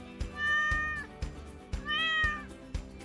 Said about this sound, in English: What does the kitty cat say?